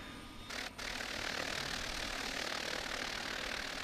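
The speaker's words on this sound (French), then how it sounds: "Moteur numéro 2, vous allez voir, il va se lancer. Là, il est en train de se lancer." Engine number two of a propeller aircraft starts up in Microsoft Flight Simulator X. After a brief dip, a dense, steady roar swells and holds at a constant level, with no talking.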